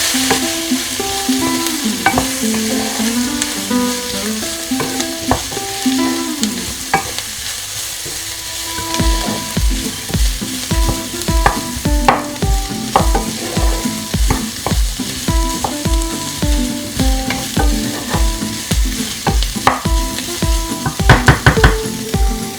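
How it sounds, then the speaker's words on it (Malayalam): Chicken pasta mixture stirred in a sizzling pan, a steady fry hiss under rhythmic scraping and clinking of a spoon against the pan, close and loud, with no talk. "നന്നായിട്ടൊന്ന് ഇളക്കി യോജിപ്പിക്കാം."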